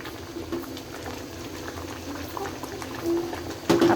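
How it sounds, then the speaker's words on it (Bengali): Rice water boiling in a covered pot gives a steady close bubbling seethe with small pops throughout, and a brief louder lid rattle or clink near the end. "ঢেকে দিয়ে ভাতটা একটু পানিটা বলক করানোর অপেক্ষায় থাকি।"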